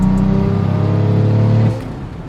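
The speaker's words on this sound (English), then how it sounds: "you can just hear that massive turbo spooling up" A powerful BMW in sport mode pulls hard, its engine note climbing steadily with a rising turbo whine layered over the low drone before easing off abruptly near the end; close and loud, with no talking.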